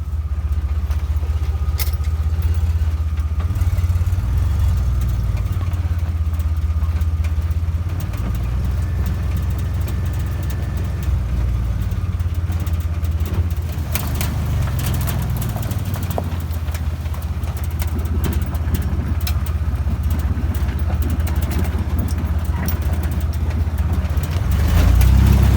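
An off-road vehicle's engine runs steadily in a low idle and slow crawl, rising and falling gently in pitch as light throttle is applied. It stays loud and close for the whole stretch, with no talk.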